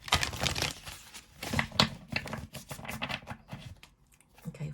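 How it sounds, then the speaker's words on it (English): A tarot deck is shuffled by hand in quiet bursts, papery riffling and slapping cards in several short clusters with brief pauses between them, fairly close and soft. "Okay, final shuffle."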